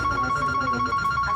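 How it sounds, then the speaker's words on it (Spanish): Telephones ringing in a parcel shipping agency in Hialeah: a steady electronic ring tone holds throughout over a busy office background hum. "Los teléfonos no han dejado de sonar en esta agencia de envío de paquetes ubicada en Hialeah"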